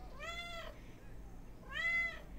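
A pet cat meows twice, each call clear and moderately close, separated by a short pause. Faint background noise and distant voices sit underneath.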